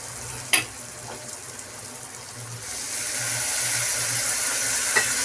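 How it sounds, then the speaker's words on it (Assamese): Water poured into fish curry sizzling in a pan, a steady frying hiss that swells into a louder gushing, steamy sizzle, close up with a clink near the start. "এতিয়া মই অকণমান ভালদৰে লৰাই লৈ ইয়াত অকণমান পানী দি দিম"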